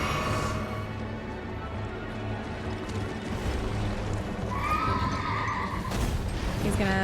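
A boss's horse in the video game Elden Ring gives a loud, drawn-out whinny, then a second neigh follows, set against ongoing game noise and hoof clatter.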